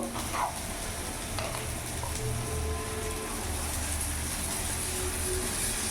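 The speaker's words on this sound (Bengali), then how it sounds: "এখানে যে আমি আদা রসুন লঙ্কা পেস্টটা বানিয়েছিলাম এই পেস্ট আমি দিয়ে দেবো" Ginger, garlic and chili paste sizzles steadily in a hot pan while being stirred, for a katla fish and green pea curry; a dense, even frying hiss fills the whole stretch with no talking.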